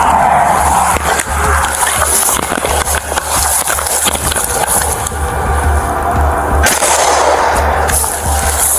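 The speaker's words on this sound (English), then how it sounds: "They're inside actively shooting." Sharp gunshots during a traffic-stop shootout, suspects firing from inside an immobile vehicle, loud and close on an officer's bodycam amid continuous rough background noise.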